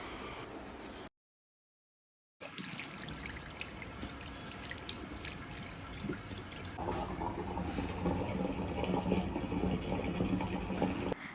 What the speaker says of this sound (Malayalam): ഉറക്കനിട്ട് താഴെ വന്ന ലച്ചു ആദ്യം ചെയ്യുന്ന പരിപാടി ബ്രഷിംഗ് ആണ്